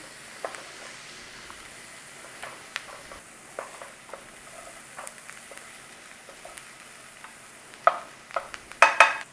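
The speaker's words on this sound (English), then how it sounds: "Nice little saute on those onions." Onions and garlic sautéing softly in a pan give a faint, quiet sizzle, broken by scattered utensil taps and stirring clicks that grow louder and sharper toward the end.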